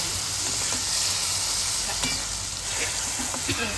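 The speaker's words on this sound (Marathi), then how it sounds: "आपण मॅश केलेले गिलके होते ते आपण त्याच्यात टाकू आणि परतून घेऊ" Mashed ridge gourd with turmeric is stirred and sautéed in a hot pan for a Khandeshi bharit, making a continuous loud sizzle with occasional scraping stir strokes, with no talking.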